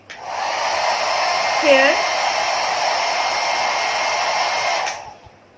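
A hair dryer is switched on and runs with a steady, loud, close whirring hum for about five seconds before cutting off. A single brief word is spoken over it.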